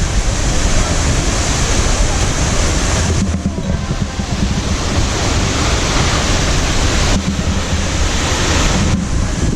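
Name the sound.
Lakshapana Falls waterfall roaring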